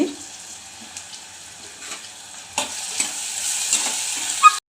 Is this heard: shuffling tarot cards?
no